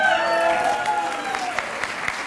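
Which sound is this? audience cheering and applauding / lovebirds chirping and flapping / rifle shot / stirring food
audience cheering and applauding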